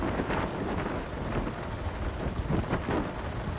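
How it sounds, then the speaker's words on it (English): Thunderstorm in the flight simulator X-Plane 12, with steady heavy rain hissing and low thunder rumbling continuously underneath, dense and fairly loud with no voices. "a thunderstorm, you can hear the thunder, actually"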